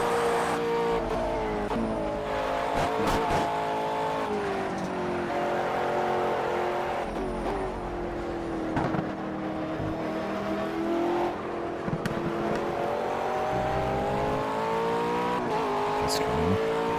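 A 9,000 RPM four-cylinder race car engine in Project CARS holds a high, steady drone with brief revs and dips, loud and close, with occasional tyre skid and no talk over it.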